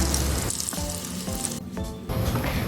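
Long eggplant pieces dipped in egg frying in oil over moderate heat: a loud, dense, unbroken sizzle with fine crackling, close up and alone.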